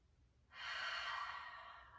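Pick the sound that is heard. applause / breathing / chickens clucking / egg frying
breathing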